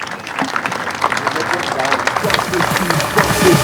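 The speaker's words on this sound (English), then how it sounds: "the loudest round of applause for all the superheroes" An audience at a children's hospital inauguration applauds loudly and steadily, with dense clapping throughout. A speaker's voice is partly heard over the crowd.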